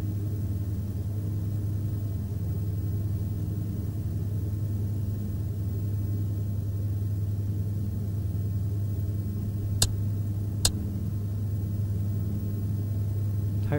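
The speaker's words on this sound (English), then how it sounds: "Engine 2 has calmed down. Engine 1 still at full power." An aircraft engine at full power in Microsoft Flight Simulator X produces a steady, droning low hum with a constant pitch, unbroken for the whole stretch, interrupted only by two brief sharp clicks near the end.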